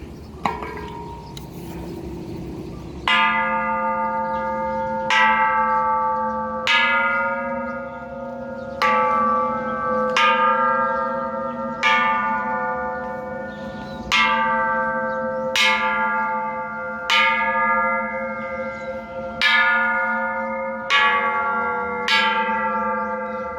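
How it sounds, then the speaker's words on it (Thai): Thai temple bell struck repeatedly at a merit-making ceremony, about nine clear metallic strikes at a slow even pace, each ringing out with a long bright decaying tone, loud and close. "ต่อไปก็จะทำการตีละครั้งนะครับ ตีระฆังเพื่อเป็นสิริมงคลนะครับ"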